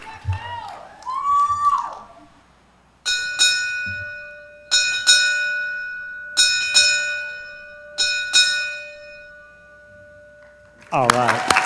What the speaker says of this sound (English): earning the honor of striking the ship's bell